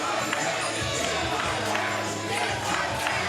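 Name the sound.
wrestling crowd reacting to Moses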